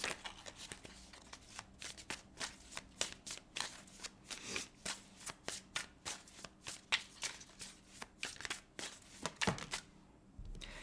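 Tarot cards being handled and shuffled, a rapid run of crisp riffling bursts and slaps repeating steadily for about ten seconds, close and fairly loud with no talking.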